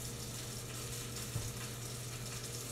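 Bacon sizzles in a frying pan: a soft, continuous crackling hiss, faint and steady, with a low hum underneath and one brief clink.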